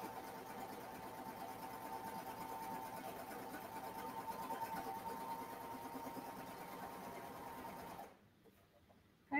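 Serger running steadily as it stitches knit fabric for a ruffled skirt, a continuous close mechanical whir at even speed for about eight seconds before cutting off abruptly.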